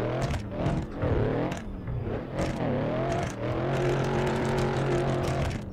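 A BMW E36 drifts on a snowy road in the Assetto Corsa racing game, its engine revving up and down and wavering through repeated handbrake slides, loud and steady with no talk over it.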